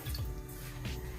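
A little water is poured from a tap or jug to dissolve an ingredient for a jackfruit dish, with soft trickling and dripping close by and no talk.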